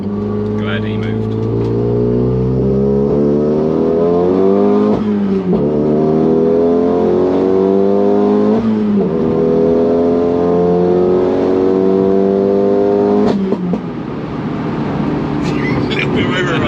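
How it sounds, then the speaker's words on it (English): A modified 325 bhp Renault Clio revs up repeatedly through rising gear-like sweeps, a loud raspy exhaust droning close by, with occasional overrun crackles and brief talk underneath. "Best sound exhaust ever on a Clio."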